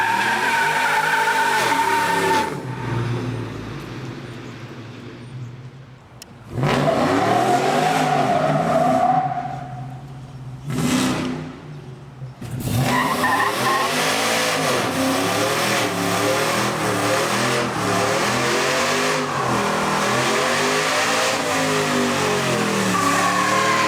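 Supercharged single cab Chevy truck engine revving hard and loud nearby, repeated rising and falling throttle blips with a brief drop in the middle, then sustained aggressive revs.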